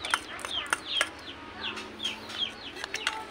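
Chickens cluck softly nearby in a series of short, repeated chirpy calls, fairly quiet against a low background.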